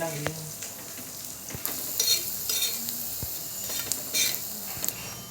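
Onion and Byadgi chillies fry in hot oil with a steady, close sizzle and crackle, broken by scraping stirs against the pan; no one speaks.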